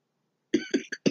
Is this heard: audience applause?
no